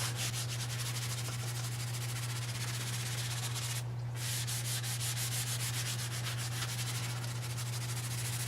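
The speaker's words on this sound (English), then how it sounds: "I'm just going to take a little sandpaper block and rough up that gloss." Sandpaper block rubbing back and forth across a glossy notebook cover, a steady close scratchy rasp running continuously with one brief pause near the middle.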